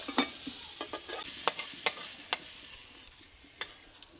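Shapla (water lily) flowers frying in a pan, with a faint sizzle under scattered sharp stirring scrapes and taps at irregular intervals, fairly quiet and close.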